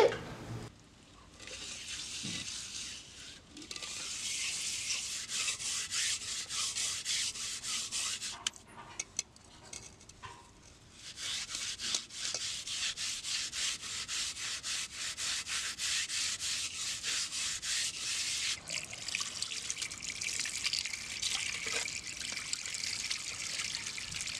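A clay cooking pot used over a wood fire, its outside blackened, is scrubbed by hand with cow dung and ash. A continuous close gritty rubbing runs with brief pauses and a faint watery trickle.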